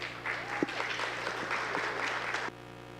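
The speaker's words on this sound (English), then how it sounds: "A round of applause, please." Conference attendees at NA Hrad 2023 clap for presenters stepping onto the stage, a moderate crowd's applause under a steady electrical hum that cuts off abruptly after about two and a half seconds.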